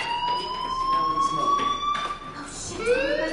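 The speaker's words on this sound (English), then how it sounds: "do you hear that fire alarm?" Fire alarm sounding inside a video game played on PS4, a steady electronic tone with rising and falling whoops, loud and continuous over game ambience.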